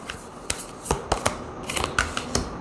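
Beyond Lemuria oracle cards being shuffled by hand, a few quick riffling flutters and soft card slaps in short bursts, close and unaccompanied by talk.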